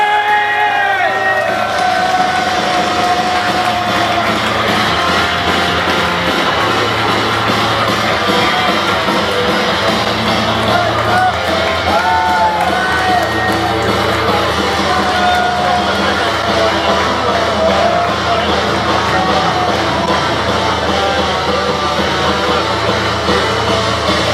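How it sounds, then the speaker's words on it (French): Crowd at a live wrestling show cheering and applauding two wrestlers after a bout, a loud sustained roar of claps and shouts filling the whole stretch, with an announcer's amplified voice over it. "les applaudissements pour ces deux catcheurs, pour cette formidable performance"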